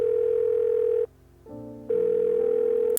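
A phone ringback tone while calling in the game Love in Login: a steady electronic tone sounds for about a second, pauses briefly, then rings again, clear and close with no talk.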